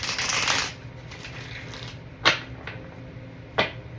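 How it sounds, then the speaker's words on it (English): A deck of angel and spirit guide tarot cards is shuffled by hand up close, starting with a quick riffling burst. Two sharp card snaps follow in a quiet room. "I need to shuffle those more."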